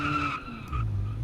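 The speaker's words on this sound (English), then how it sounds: "the wheels like lock up and then you have to hear a horrible noise" Locked-up car tires skid and squeal under hard braking in a racing video game, a sustained tonal screech that drops away midway and gives way to low engine rumble, with no talk.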